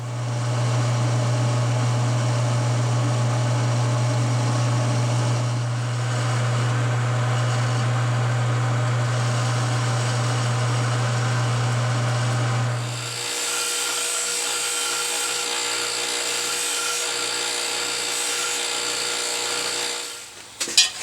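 A power tool cuts the lip of a metal air intake pipe down to a smaller diameter, a loud sustained whine with a low hum that stops partway, leaving a higher grinding tone until it winds down.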